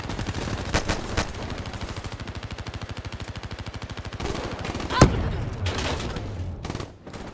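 Call of Duty: Black Ops III multiplayer with a long run of rapid, evenly spaced gunshots, then a pause and more scattered loud shots and a sharp high ping near the middle, all close and loud.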